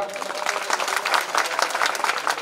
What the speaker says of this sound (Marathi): अशा महिलांकरता सर्वांनी एकदा जोरात टाळ्या वाजवा